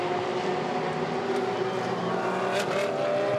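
GT race cars, a Porsche and a Ferrari, dueling for position at the Zhuhai circuit in China, their engines droning steadily and loudly throughout with a brief rise as one passes closer, no voices.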